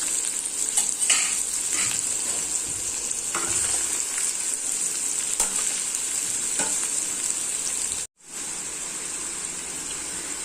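Chopped onions with cinnamon and cloves frying in hot oil for an egg curry, a loud steady hiss with scattered scraping stirs, briefly cut off near the end before resuming.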